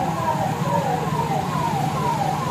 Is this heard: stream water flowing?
no